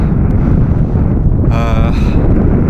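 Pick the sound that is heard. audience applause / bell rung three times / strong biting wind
strong biting wind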